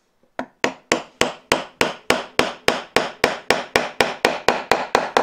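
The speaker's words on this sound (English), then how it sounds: "I simply put it in the Kerf and then tap it with my small mallet down to the line" A small mallet taps a Kerf X-10 tool into wood for a half-blind dovetail, about twenty sharp, evenly spaced knocks in a brisk steady rhythm, close and crisp with short decays.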